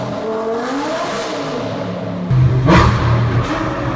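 A car engine revs hard, with a rising, strained roar that jumps louder halfway through and peaks in a sharp burst before settling into a loud, steady growl.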